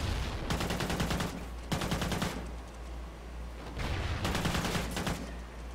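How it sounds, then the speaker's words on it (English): Rapid automatic gunfire from a minigun in a first-person shooter gun game, loud bursts near the listener separated by brief pauses, over a steady low game hum. "Oh my god, he has a minigun."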